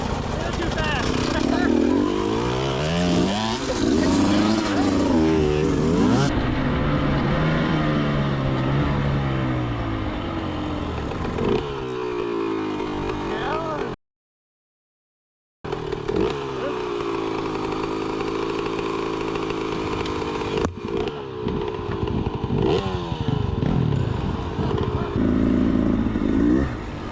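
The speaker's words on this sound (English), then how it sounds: "First time he's ever rode a manual dirt bike on the trail." A manual dirt bike ridden along a trail, its engine buzzing and revving loudly and steadily throughout with a brief dropout midway, while people talk over it.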